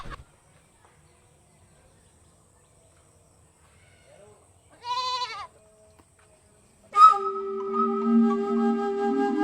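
A goat gives a single short, close bleat midway through an otherwise near-silent stretch, followed by a louder, sustained tonal sound that carries to the end.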